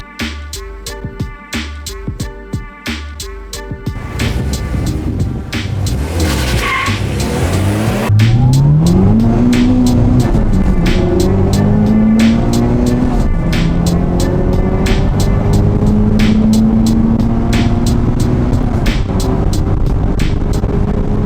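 A rear-wheel-drive BMW 340 with a B58 engine roars and revs up through the gears while racing, with tires squealing early on, loud and close.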